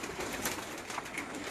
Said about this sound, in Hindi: ये इनके बड़े मशहूर कबूतर हैं